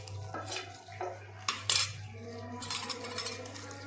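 A spoon stirring dried leaf powder into honey, with metallic clinks and scrapes against a bowl, some sharper knocks midway and a steady low hum beneath, fairly close and moderately quiet.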